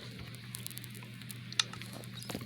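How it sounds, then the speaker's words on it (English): Rain falling outside, a soft continuous patter like water striking plastic, faint under a low steady hum, with one sharp tick midway. "it is raining outside right this moment, because I can hear what sounds almost like a fan or water hitting plastic"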